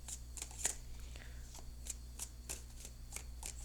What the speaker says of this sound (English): let me just shuffle for a few more seconds